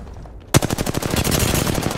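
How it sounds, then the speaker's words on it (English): Rapid automatic gunfire in a first-person shooter video game, bursting in loud and close after half a second of quiet and continuing as a dense rattling stream of shots. "Someone fired on me."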